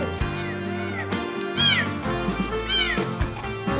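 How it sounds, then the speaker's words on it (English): A serval gives a few loud, close, cat-like meows, drawn-out calls with rising and falling pitch, repeated about a second apart. "Serval."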